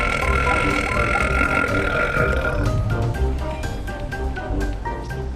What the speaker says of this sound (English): I've been burping since morning